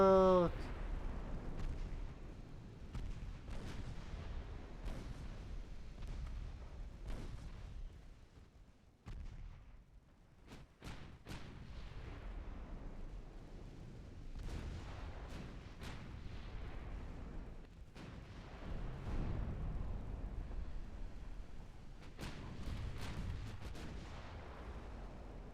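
Naval gunfire in the Ultimate Admiral Dreadnoughts warship game: repeated heavy booms and sharp cracks from the ships' guns, loud and continuous throughout with rumbling blasts overlapping. An old light cruiser and a more modern ship are in the engagement.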